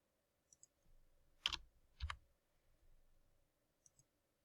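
Several crisp computer mouse clicks sound close and quiet, in short separated taps over a near-silent background while saving a file.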